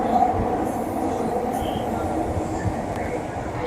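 A Mumbai metro train runs fast through an underground tunnel, a steady loud rumble with rattling wheels and faint squeals filling the carriage.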